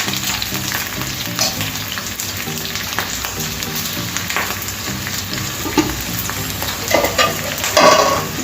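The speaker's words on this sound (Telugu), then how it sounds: "పచ్చిమిర్చి, ఎండుమిర్చి మంచిగా వేగిపోవాలండి ఆయిల్లో." Green and dry chillies with chana dal and urad dal frying in hot oil, a steady close sizzle with scattered crackles and spoon scrapes that pick up toward the end.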